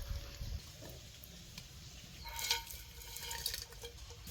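Water poured into a cooking pot of boiled spiced water with cloves and peppercorns while making chicken biryani rice, a moderate splashing pour building midway and running steadily to the end, with no voices.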